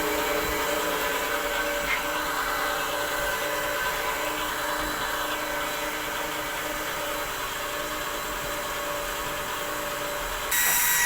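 A Mitsushi 0.5hp electric water pump runs steadily while priming, giving a continuous mechanical whir with a rising hiss that holds throughout and grows slightly louder at the very end.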